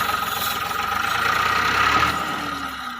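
A Millat tractor engine pulls a loaded 16-foot trolley, its steady mid-pitched diesel drone running continuously and close, with a faint rising whine near the end.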